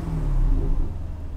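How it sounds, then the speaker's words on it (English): An Aston Martin DB11 Volante engine given a short rev, a deep close rumbling roar that swells briefly and then settles back. "I'm just going to give that little rev so you can."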